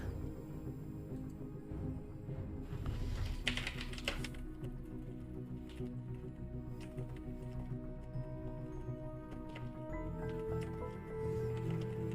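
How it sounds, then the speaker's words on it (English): Typing on a computer keyboard during an online poker tournament session: quiet, irregular key clicks and taps over a background of hum and faint game sounds, close and soft. "I'm typing to you and I'm not actually here."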